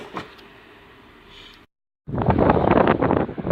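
Wind buffets the microphone with a steady roar, cuts out briefly, then returns louder and gustier, rumbling close and strong.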